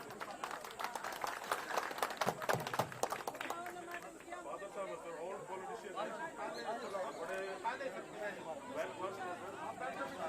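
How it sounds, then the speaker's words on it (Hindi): A burst of loud applause from a crowd welcoming a former chief minister at a political campaign event fills the first few seconds, then fades into murmuring chatter and voices speaking. "जोरदार तालियों से स्वागत कीजिए साथियों"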